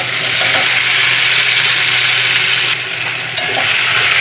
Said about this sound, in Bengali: এখন ভেজে রাখা চিংড়ি আর কাঁঠালটা দিয়ে দেব